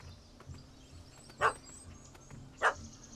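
A puppy in The Witcher 3: Hearts of Stone gives two sharp, separate barks about a second apart, heard over quiet game background ambience with no talk.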